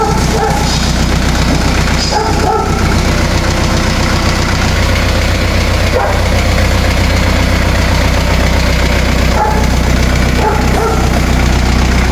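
A Kubota L4508 tractor imported from Thailand runs on test, its diesel engine idling in a loud, steady knocking chug close by for the whole stretch, with a few faint clunks over it.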